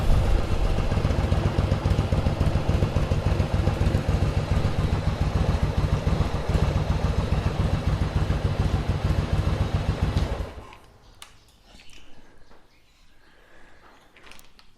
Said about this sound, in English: she's running all right. Full-blown 1100 now.